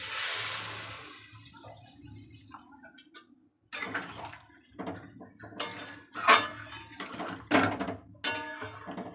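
Water is poured into a pan of prawn curry with yardlong beans, potato, eggplant and papaya, a soft splashing pour at first followed by several close clanks and scrapes of utensils against the pan.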